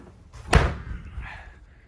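A storage hatch on a Haines 32 motor boat is shut with one solid, close thud, followed by a short rattling decay.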